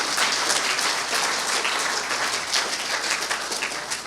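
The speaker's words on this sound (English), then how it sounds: "Applause is appropriate." Steady, loud applause fills a room at an Eagle Scout ceremony and carries on without a break.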